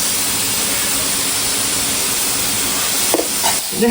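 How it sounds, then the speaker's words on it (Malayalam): Chopped ginger, chilli and onion frying in a pan while stirred, a loud dense sizzle that fills the whole stretch, with a few scraping knocks near the end, close and unbroken. "അതും കൂടി കൂട്ടിയിട്ട് നന്നായിട്ട് ഇളക്കാം"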